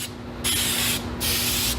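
Adhesive sprayed from an aerosol can onto the back side of car sound-deadening insulation: two loud, steady hissing bursts with a short pause between them, close by, over a faint constant hum.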